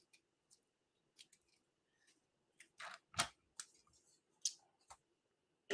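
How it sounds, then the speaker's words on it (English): Scissors snip through designer series paper in a string of short, crisp cuts, some in quick pairs, faint and close in an otherwise quiet room with no talking. "I can cut that in half."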